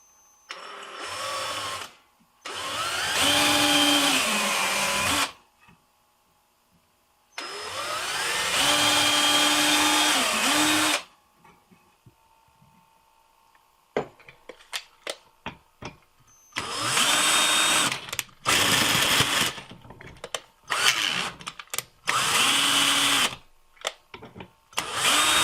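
Power drill driving adjustment bolts into a DIY strip sander in a workshop, several loud sustained whirring bursts separated by pauses with quieter handling clatter, then shorter stop-start runs toward the end.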